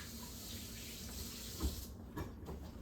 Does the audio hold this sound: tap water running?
yes